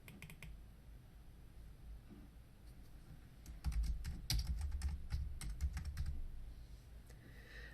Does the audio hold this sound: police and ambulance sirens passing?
no